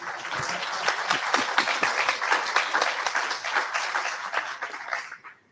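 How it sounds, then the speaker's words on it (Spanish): Applause from a modest audience at a book presentation on the Panama Canal, with individual claps distinctly audible in an irregular patter before it stops abruptly. "Un aplauso, por favor."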